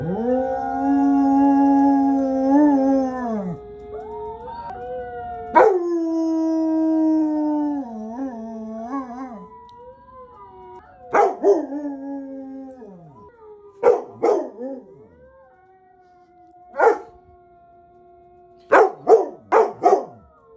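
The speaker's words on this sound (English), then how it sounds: "Now you're not howling anymore. You're just barking." A dog lets out long, wavering howls up close, then breaks into a series of sharp, separate barks spaced out with pauses between them.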